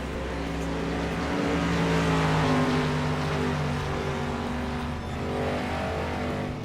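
Stock car engine droning steadily at New Smyrna Speedway during a pavement street stock race, a loud, sustained roar that swells slightly mid-way, close by.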